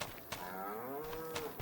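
A cow in a barn in the Farming Simulator 25 video game gives one long, clear, drawn-out moo that wavers in pitch, loud and close, with nothing else competing.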